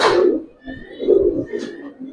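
Soft cooing of a Giribaz pigeon, an old-breed tournament bird, in a few short low-pitched phrases close by.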